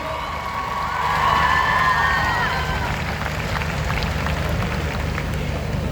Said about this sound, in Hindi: जोरदार तालियों से आप अपने गुरुजनों का सम्मान करें।